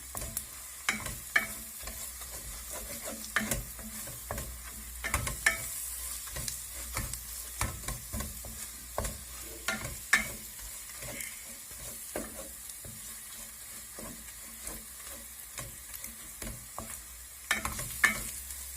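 A spoon works pepper-powder masala around a hot pan for mutton liver fry, with a steady sizzle of frying beneath repeated close scraping and clattering strokes and no voices.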